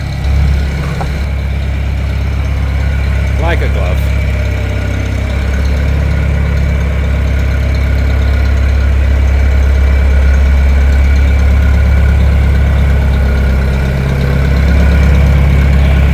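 A tractor engine idles loudly and steadily with a deep, continuous rumble as it is moved into a shop, with brief faint talk over it.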